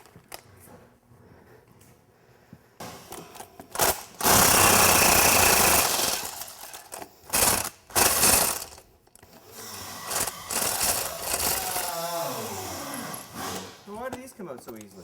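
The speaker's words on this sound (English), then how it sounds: "I'll just pull that intake manifold off the other side." Ratchet and air tools working loose a truck intake manifold, with bursts of loud mechanical rattling and clicking, close by, between stretches of someone talking.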